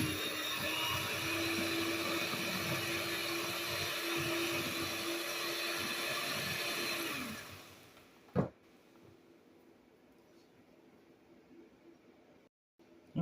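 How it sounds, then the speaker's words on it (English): An electric hand mixer whirs steadily for about seven seconds while whipping cauliflower mash, then cuts off, leaving quiet room tone with a single sharp knock. "I'm going to use my mixer and mix it up."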